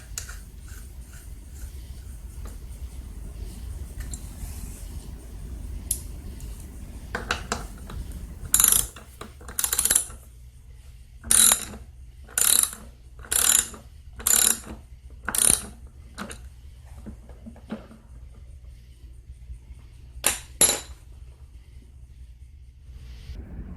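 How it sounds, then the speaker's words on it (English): A 9/16 inch wheel nut is tightened on a Troy-Bilt TB210 with a ratchet: about a dozen short, sharp bursts of ratcheting clicks, close and spaced apart, over a quiet low hum. "Now I can replace the 9/16 inch nut that holds the wheel on."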